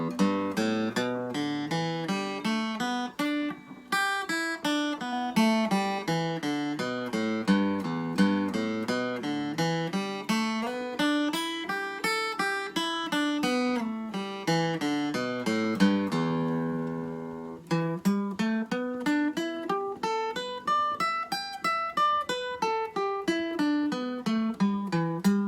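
A guitar plays an E blues pentatonic scale warm-up with alternate picking, single notes climbing and descending in an even, repeated pattern, clear and alone.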